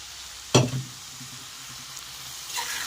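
Banana flower and potato drop into hot spiced oil with a sudden loud sizzle that quickly settles into a quieter crackle, then a softer hiss flares near the end.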